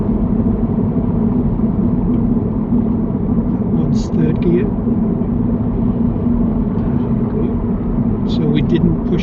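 Steady, close low engine and road rumble from inside a car cruising in fifth gear on a driving lesson around roundabouts, with a few faint high chirps over the drone.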